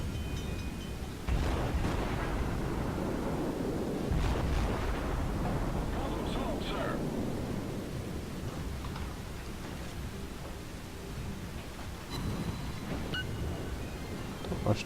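Naval gunfire in the World of Warships naval battle game: heavy booming shots merge into a steady, loud rumble of continuous cannon fire, with a few small electronic beeps and ticks on top.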